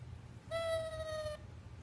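A toy garden sound book plays a single sustained, tonal owl hoot of just under a second, clear and close over a low background hum, with no voices.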